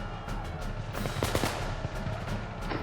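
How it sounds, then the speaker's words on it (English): A Civil War battle sound effect of a gunfire barrage, with rapid overlapping shots cracking in dense irregular bursts over a rumbling background, loud and continuous. "The men from Georgia and South Carolina amassed 4 ranks deep behind the wall, firing in almost constant barrage."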